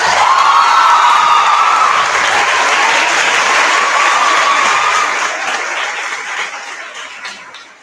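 Indoor audience at a college valedictory function applauding: dense, sustained clapping from many hands that holds strong for about five seconds, then gradually thins and fades out.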